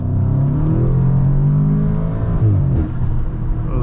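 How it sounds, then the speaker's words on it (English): Tuned 2020 Audi S3 accelerating, a loud continuous engine and intake drone heard from inside the car, rising in pitch then dipping briefly near the end. "Oh, you can hear that. You can hear that intake."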